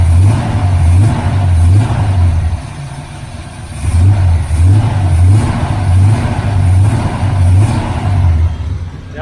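A 1981 Chevrolet Camaro Z28 V8 with no choke runs nearby, its loud steady idle rising and falling in rhythmic surges, with a short dip in level before it picks back up.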